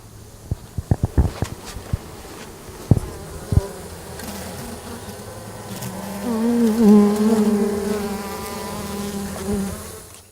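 A dense swarm of honey bees buzzing in Davis, California, swelling louder in the second half, with a few sharp taps and clicks near the start.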